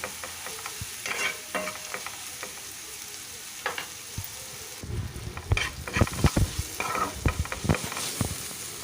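Soya chutney with green chilies frying in a pan while a spoon stirs it, a soft steady sizzle broken by scraping strokes that grow louder and more frequent toward the end.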